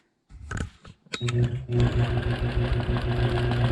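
A sewing machine quilts around nested circles for a medallion design. A few faint handling noises come first, then the machine starts and runs with a steady, close, rhythmic stitching hum.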